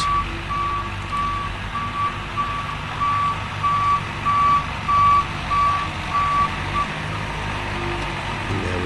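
A Cat grader turning around, its reversing alarm giving a steady series of evenly spaced high beeps over a rumbling diesel engine, fairly close.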